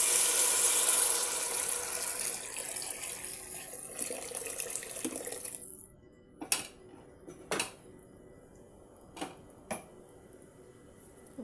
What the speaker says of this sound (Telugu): ఇప్పుడు ఇందులో సరిపడా వాటర్ వేసేసుకున్నాం.